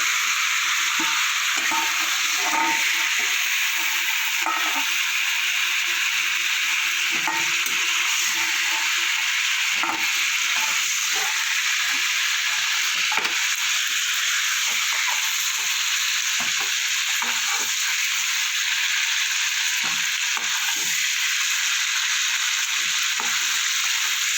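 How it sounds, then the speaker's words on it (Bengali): Chicken frying in mustard oil in a wok for Bengali chicken posto, a steady loud sizzle running throughout with occasional stirring clicks and scrapes, no voices. "চিকেনটা আমার একটু ভাজা হয়ে গেছে, হালকা করে ভেজে নিয়েছি"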